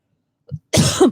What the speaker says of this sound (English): Oh, sorry. I coughed into that.